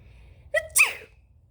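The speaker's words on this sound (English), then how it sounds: "Presently, Peter sneezed." A single sneeze, a quick intake of breath then a sharp burst, close and clear in an otherwise quiet room.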